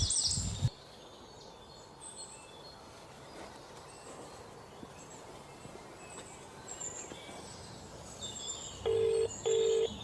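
A phone keypad is dialed: a quick pair of tones near the end follow a mostly quiet stretch of faint ambient background, with one brief thump at the start.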